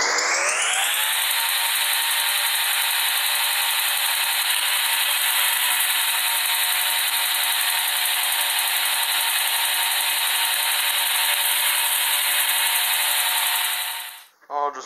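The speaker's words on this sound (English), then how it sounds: "I'm just going to go ahead and cut at my two marks." A power saw whines loudly and continuously, cutting through a cocobolo wood pen blank for a long steady stretch before the blade spins down near the end.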